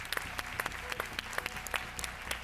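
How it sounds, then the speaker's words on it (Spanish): Audience applause at a The Voice Chile 2023 blind audition: dense, steady clapping from a studio crowd, fairly soft and distant, with a few sharper nearby claps standing out. "Te aplaudo."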